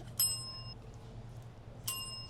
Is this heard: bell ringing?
yes